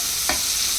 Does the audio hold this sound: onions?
yes